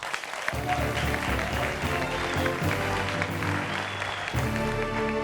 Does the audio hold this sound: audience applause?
yes